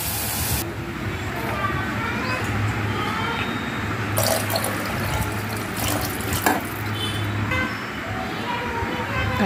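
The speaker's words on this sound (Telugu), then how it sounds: "కావాల్సినంత క్వాంటిటీ వాటర్ యాడ్ చేయండి" Water is poured into a cooking pot over tomato and tamarind pulp for rasam, a continuous splashing rush lasting several seconds with a low hum underneath and brief clatter partway through.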